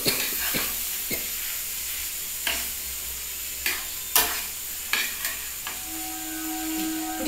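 Boiled potato is stirred into fried onions in a hot pan for a chop filling, with a low sizzle under repeated scraping and knocking strokes of a spoon, close and fairly loud, with no talking.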